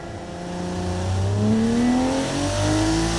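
A 1946 Light Sport car in the BeamNG driving game launching hard off the line, the engine note climbing through rising revs with a shift partway, loud and close with no talking.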